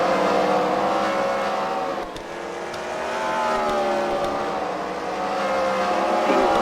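Race car engines drone and whine at a Fight Night car racing event at the Freedom Factory, a continuous layered roar that dips briefly and swells again as cars pass at moderate distance.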